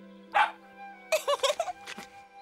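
A dog barks in an animated scene, one sharp bark followed after a pause by a quick burst of several yelping barks, close and clear over a quiet low hum.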